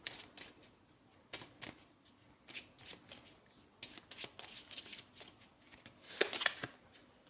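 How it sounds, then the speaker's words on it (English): A deck of oracle cards shuffled by hand in a series of quick riffling bursts and soft slaps, close and fairly quiet, with short pauses between bursts and no speech. "I'm going to get out an Angel's Whisper card here."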